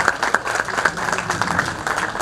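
An audience at a talent show claps throughout, a short burst of dense applause at moderate volume without voices on top.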